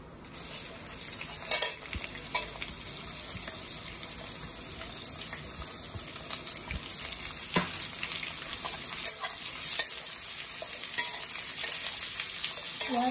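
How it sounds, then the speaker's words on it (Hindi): Onions frying in a pan for dhaba style chicken curry, giving a steady, fairly soft sizzle with occasional stirring clatters throughout. "अब इसमें प्याज डाल देंगे।"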